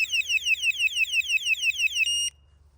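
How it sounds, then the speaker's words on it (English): Anti-theft alarm on an e-bike battery blaring close and loud, a fast repeating electronic whoop of about a dozen rising chirps, ending in a steady tone that cuts off abruptly. "this is another alarm that I have, which I arm it like this, and if somebody comes and tries to touch my battery"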